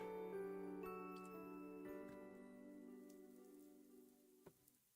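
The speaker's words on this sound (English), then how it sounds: "I wake to the sound of rain." Rain falls in the Fate/stay night Remastered video game as a soft, steady patter under sustained musical tones that fade toward the end.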